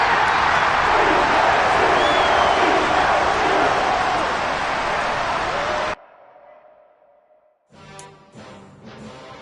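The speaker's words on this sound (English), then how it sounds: "And the home crowd applauding." A home crowd applauds in a Madden football video game, a dense and steady roar of clapping and cheering that cuts off abruptly, leaving quieter scattered sounds.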